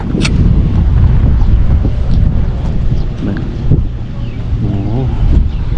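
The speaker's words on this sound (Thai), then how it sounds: "บรรยากาศก็ดีนะลมพัดเย็นเย็นนะ" Cool wind blows across a hilltop viewpoint at Phou Nakay in Laos on a rainy day, a loud, buffeting rush of wind over the microphone with low rumbles and a few faint voices underneath.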